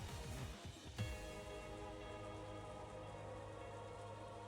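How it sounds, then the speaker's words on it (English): Rain ambience in the visual novel game Umineko When Seagulls Cry, with a soft, steady patter under a sustained tonal musical backdrop and a brief low thump near the start. "when I woke up, it had already started raining."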